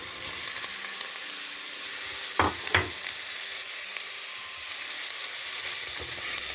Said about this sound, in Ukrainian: І це все починається смажитися.